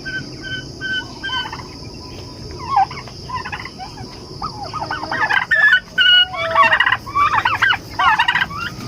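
A turkey gobbles repeatedly nearby in loud rattling bursts, the calls growing denser and stronger toward the end, over a steady background of insects and farmyard ambience.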